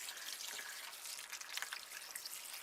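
Lye solution is poured into a container of palm and coconut oils for soap making. It gives a soft, steady splashing trickle, quiet and close, lasting the whole moment with no talk.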